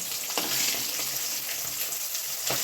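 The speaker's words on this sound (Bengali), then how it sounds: "মাছগুলো কি ফাটছে ফুটুস ফাটুস করে" Katla fish pieces frying in hot oil in a pan, a steady loud sizzle with scattered crackles and pops throughout, no voices.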